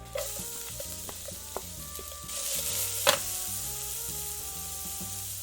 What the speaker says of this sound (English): We got that nice sizzle going.